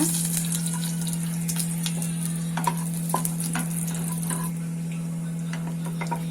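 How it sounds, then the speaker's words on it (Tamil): Cashew nuts frying in ghee in a pan while a Bengal gram dal payasam is being made, a light crackling sizzle with scattered stirring clicks over a constant low hum. "நான் இப்ப முந்திரி பருப்பை உள்ள சேர்த்து வறுத்துக்கலாம் நெய்ல."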